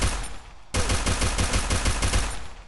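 A teammate's gunfire in Free Fire, a rapid automatic burst of evenly spaced shots starting abruptly after a short lull and hammering steadily, loud and near.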